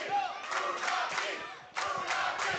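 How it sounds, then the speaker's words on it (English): A pro wrestling crowd at an event roars and chants loudly, urging the wrestler Funaki back into the match, in two sustained swells with a brief dip between them. "the crowd willing him back into this thing"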